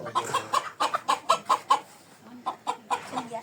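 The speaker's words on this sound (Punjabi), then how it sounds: "ਇਹ ਮੁਰਗੀ ਤੇ ਮੁਰਗਾ ਦੋਵਾਂ ਜੀਆਂ ਨੇ ਬੜੀ ਸਾਨੂੰ ਆਵਾਜ਼ ਜਿਹੜੀ" A hen and a rooster cluck close by in a village yard, giving a quick series of sharp, repeated calls that come in two bursts separated by a brief pause.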